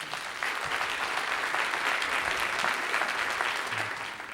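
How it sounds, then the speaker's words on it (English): Dense, steady applause from an audience honoring musicians at an evening performance, holding loud and even for about four seconds with no talk over it. "Let's give them a nice round of applause, please."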